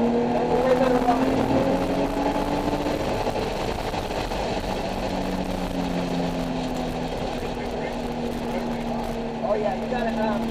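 A Nissan 370Z sports car circulates Laguna Seca race track, its engine droning steadily with shifting pitch as it climbs and drops through the gears, heard continuously from inside the car with people talking over it.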